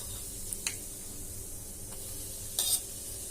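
Two spoonfuls of chili powder hit hot mustard-seed tempering for Bellary-style tili saaru, giving a faint, steady sizzle broken by a few sharp clicks and a brief louder burst near the end, with no talking.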